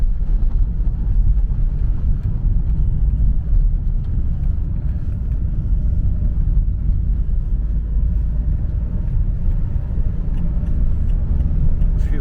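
Steady road rumble of cars passing close by on the A69 in rain, a continuous low drone of traffic with rain-like hiss, no voices.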